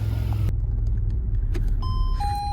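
A Saab 900's engine runs with a steady, close low rumble throughout, and bright electronic warning chimes sound over it in the second half.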